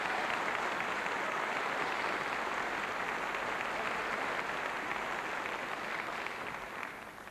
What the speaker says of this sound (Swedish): Du får en applåd där så kommer du upp.